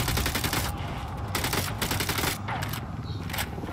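Sustained heavy gunfire in Ghost Recon Wildlands on PC, a loud, unbroken barrage of overlapping automatic shots with no pauses throughout.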